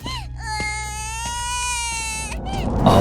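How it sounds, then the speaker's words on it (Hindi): A baby's wailing cry in a Hindi horror cartoon, heard near the flat and coming from a large rubbish bin; a loud, sustained, high tonal cry over a low drone, with a rising noisy burst at the end. "उसे एक बच्चे के रोने की आवाज सुनाई दी"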